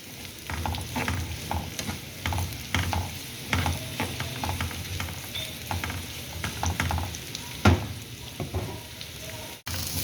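Four sliced onions fry in a generous amount of oil for keema karela, a steady close sizzle broken by repeated scraping stir strokes, with no voices.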